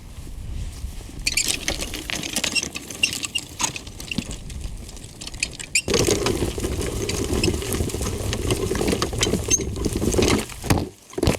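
A push finger weeder with spike-driven rubber fingers works through garden soil, making a continuous gritty scraping and rustling that grows fuller and louder partway through, with no talking.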